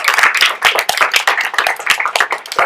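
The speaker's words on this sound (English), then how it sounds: "Can we give Miss Patrigas a round of applause?" Audience applause for a student microphone technician at a school TED Talks event, close, uneven hand claps from a small group in a brisk, irregular patter.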